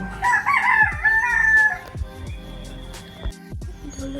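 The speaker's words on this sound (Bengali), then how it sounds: "এখানে মুরগি আছে মুরগিগুলোকে ডাকছে" Chickens clucking and a rooster crowing loudly nearby, followed by softer scattered clucks and rustling; no talking.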